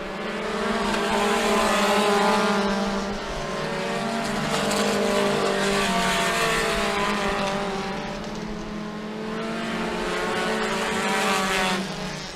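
Race cars circling Humberstone Speedway, a dense, loud pack of engines whose roar swells and fades in waves as the cars pass and come around again, with harmonic whines carrying steadily throughout.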